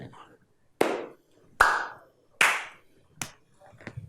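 Finger-only claps against the palm, a softer variation of hand clapping: four or five separate sharp claps, spaced at about 0.8-second intervals, close and moderately loud, with the final ones lighter and quicker.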